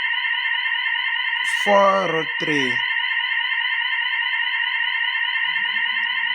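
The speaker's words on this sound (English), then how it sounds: "My apologies for the alarm." An emergency alarm sounds as a steady, continuous electronic tone with a rapid warble, running unbroken throughout while someone briefly speaks over it.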